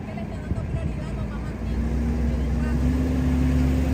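A truck idling and rumbling at a crowded border crossing, a steady low engine drone that thickens slightly midway, with people talking nearby.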